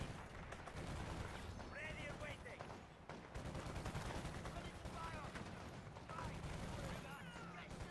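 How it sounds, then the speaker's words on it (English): Company of Heroes 2 combat full of dense overlapping gunfire and heavy booming artillery blasts, with voices talking over the constant battle din. "I'm trying to hit them with the base artillery"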